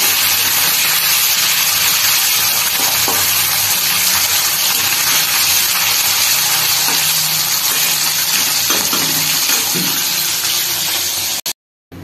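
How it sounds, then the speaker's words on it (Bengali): Fish frying in hot oil in a home kitchen, a loud continuous hissing sizzle that stays steady for about eleven seconds before cutting off abruptly. "মাছটা একটু লাল করে ভেজে নিতে হবে।"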